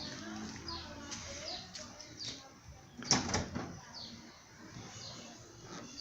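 Trunk lid of a Ford Escort being opened, one brief clunk midway with a short rattle after it, against a quiet outdoor background with faint bird calls.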